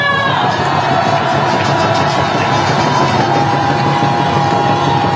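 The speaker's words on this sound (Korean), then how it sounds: "뜨거운 박수 보내게 해주십시오" A large crowd cheers and shouts at a political campaign rally in Daegu's Seomun Market, loud and continuous, with a steady roar of voices and whoops and no clear break.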